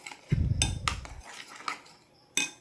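A spoon stirs graham crackers with Alaska milk in a dish, giving a short scrape followed by several light clinks and taps, close and fairly quiet.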